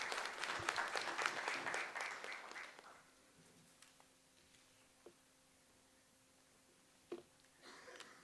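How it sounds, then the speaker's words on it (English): Applause from a conference audience at a feed technology expo, a dense burst of clapping for about three seconds that fades out, followed by quiet room tone with a few isolated clicks. "Big round of applause for Dr."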